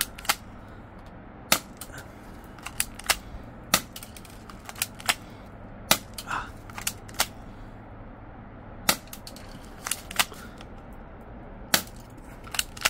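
Airsoft rifle from a combined rifle and pistol kit, cocked and fired in a quiet room: a string of sharp, isolated snaps and clicks spread irregularly over several seconds, close and dry against a low steady hum.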